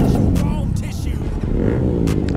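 A Bajaj Pulsar NS motorcycle fitted with four aftermarket silencers revs loudly and close by, a rough, continuous engine roar with rising and falling throttle, while voices talk over it.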